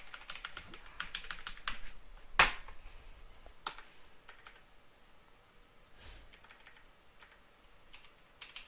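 Computer keyboard keys pressed during a video game, with the S key sticking: scattered, fairly faint clicks and taps, one sharper clack partway through, no talking.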